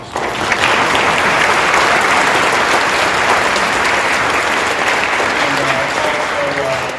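An audience at a high school senior awards ceremony applauds the assistant principals, loud sustained clapping with a faint voice emerging near the end.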